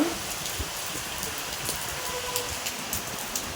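Rain falls outdoors in a village, a steady close hiss of drops pattering on surfaces with scattered sharper splashes throughout, and no voices.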